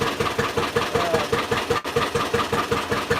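A John Deere Model A tractor idles on its first start in eight years, its two-cylinder engine thumping in a steady loping rhythm, loud and close, with one brief dip in the beat.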